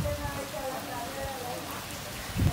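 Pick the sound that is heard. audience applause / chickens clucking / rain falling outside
rain falling outside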